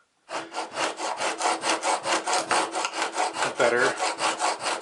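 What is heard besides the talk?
chisel sharpening on a diamond stone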